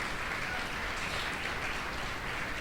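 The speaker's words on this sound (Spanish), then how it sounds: "Dale un aplauso a Cristo, que Él vive y permanece para siempre." A church congregation applauds during a Spanish-language sermon, heard as a continuous, even wash of distant clapping that sounds almost like rain, with no clear speech.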